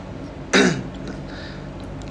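A person gives one short, sharp cough, loud and close, followed by quiet room tone for the rest of the moment.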